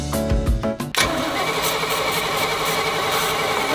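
An engine on a boat-and-motorhome hybrid with a needle valve fault, cranking with a few chugging starter pulses before catching and settling into a loud steady running roar.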